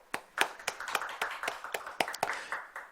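A small church congregation claps in a brief round during a Sunday service, a dozen or so sharp, separate claps at close range over about three seconds, fairly quiet and without talk.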